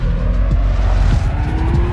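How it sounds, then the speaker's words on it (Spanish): A Corvette Z06 engine running loud and close, a deep throbbing rumble that rises slightly in pitch toward the end, heard alone without talk. "¿Cómo suena ese motor, ah? Suena espectacular."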